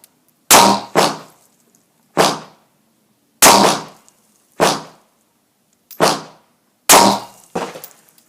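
Glock 19 Gen 5 pistol fired at a range, eight sharp loud shots in uneven spacing, some in quick pairs, each with a short ringing decay.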